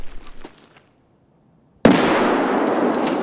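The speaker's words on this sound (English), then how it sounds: "Third one. Third grenade." A grenade goes off in the shooter game Escape from Tarkov: a sharp, loud blast after a second of near silence, followed by a long rumbling, crackling decay.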